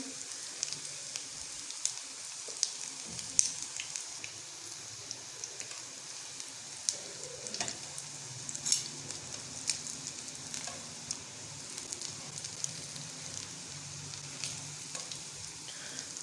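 Bread cutlets made with plain water frying in oil over medium heat until brown, a steady fine sizzle and crackle with scattered sharper pops, close and continuous, no talking.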